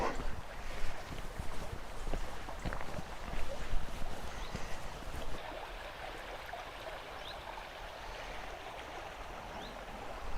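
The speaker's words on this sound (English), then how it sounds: "Nice to hear the sound of the water bubbling away along with the bird song." Water bubbles along a stream beside the Limestone Way between Youlgreave and Middleton-by-Youlgreave, a continuous rushing babble with wind buffeting the microphone early on and faint bird calls behind it.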